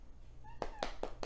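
A 5.5-month-old Siamese kitten meows, starting with a thin rising cry and then several quick, close meows in a row in a quiet room.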